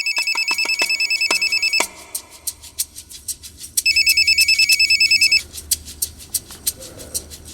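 A telephone rings with a repeated electronic trill in two loud bursts, separated by a short gap of sharp clicks and knocks, in a Hindi crime drama scene.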